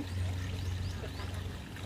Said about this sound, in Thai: เป็นน้ำตกเล็กๆ